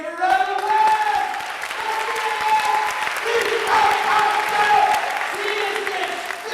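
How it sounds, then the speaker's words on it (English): Audience applause at a motivational speaking event, a steady, dense wash of clapping held for several seconds, with sustained tonal sounds running over it. "Give it a round of applause!"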